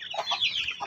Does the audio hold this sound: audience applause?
no